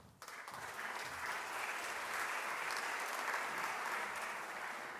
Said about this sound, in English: So please, big applause for Iñaki.